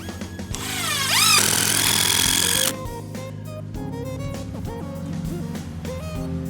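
Power drill driving screws into wooden stair stringers while a stair kickplate is replaced, a loud close whine rising in pitch, then a lower steady run with several short trigger bursts and pitch changes.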